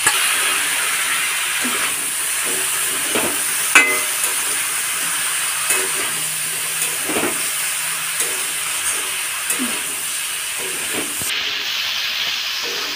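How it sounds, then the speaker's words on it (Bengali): Dried fish frying in a pan with bamboo shoots, giving a steady close hiss and sizzle with a few faint clinks and stirring touches throughout. "শুটকি মাছটি প্রায় ভাজা হয়ে গেছে, এখন বাঁশকুড়ো দিয়ে দেব।"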